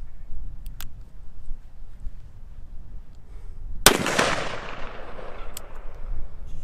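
A single loud gunshot cracks into a dirt berm at an outdoor range, its sharp report trailing off in a long rumbling decay over quiet background ambience.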